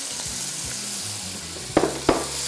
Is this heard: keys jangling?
no